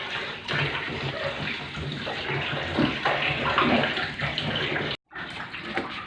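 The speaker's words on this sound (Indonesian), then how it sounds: "untuk membersihkan penumpukan esnya kita siram menggunakan air hangat ya, agar dia cepat bersih es-esnya itu ya" Warm water pours steadily over ice buildup inside a faulty refrigerator in Palembang, a close, continuous splashing gush that stops briefly near the end, then resumes.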